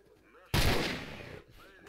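A single loud, sharp SVD sniper rifle shot in S.T.A.L.K.E.R.: Shadow of Chernobyl cracks out and rings for about a second before fading.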